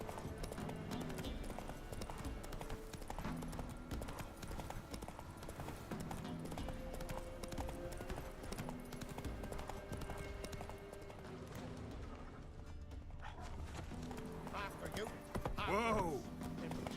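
Roach, a horse in The Witcher 3, gallops with a fast, steady clip-clop of hooves running throughout, a neigh near the end, and a voice talking over it.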